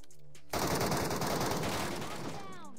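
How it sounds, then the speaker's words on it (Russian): Rapid gunfire in the Metro Royale video game, a loud dense burst of automatic fire that starts suddenly and runs for about two seconds, then gives way to quieter game sounds. "Куда он стреляет?"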